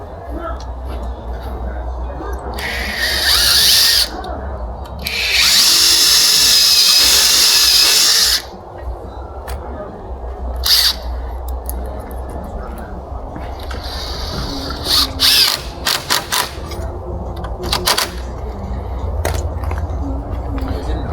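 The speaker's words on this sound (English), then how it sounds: "They're adding fasteners to the side of the vertical brace to hold it in place." Power drill drives fasteners into the vertical brace of a wood gate in two long, loud whirring runs and several shorter bursts, close by, with speech between the runs.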